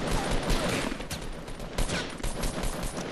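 Rapid gunfire in the video game Fortnite: a dense, continuous volley of shots with overlapping bursts and blasts that stays loud and steady throughout.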